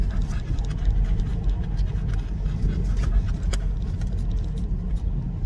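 A dog pants rapidly and rhythmically inside a moving car, its breathing close but partly under the steady low rumble of the engine and road noise.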